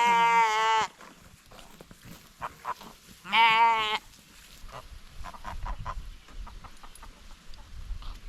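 A hungry sheep on pasture bleats loudly twice up close, the calls separated by a few seconds of low shuffling and small farmyard noises.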